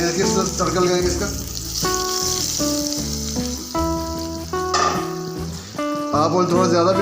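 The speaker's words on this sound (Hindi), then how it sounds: "ये देखिए तड़का लगाएंगे इसका।" Steady hissing sizzle of spices frying in hot oil, continuous and close, heard beneath loud background music.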